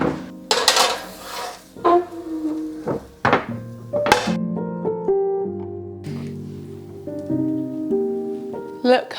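Puff pastries being moved onto a baking tray, with a few sharp knocks and clatters of the tray and a run of plinking, pitched metallic taps, close and fairly loud, over soft background.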